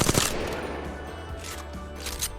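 Gunfire at range targets in Apex Legends rings out as a sharp opening burst of shots, then fainter intermittent firing under a sustained game background hum.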